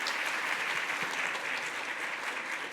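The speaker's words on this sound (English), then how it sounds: "Let's give another round of applause for Connie, for all the leaders in the room." A room of leaders at a governance symposium breaks into continuous applause, dense and even from start to finish, a close, full hiss of many hands with no voices over it.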